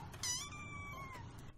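A kitten meows from a playing video, one clear drawn-out cry that rises and then falls, faint and slightly distant, over a quiet background hum.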